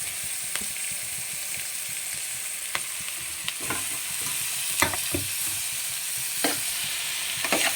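Three chopped medium tomatoes added to onions fry in a pan with a steady background sizzle, punctuated by irregular scraping and clinking stirs of a utensil against the pan, near and moderately loud, no talking.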